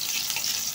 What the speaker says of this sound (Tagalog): Halu-haluin lang po natin siya.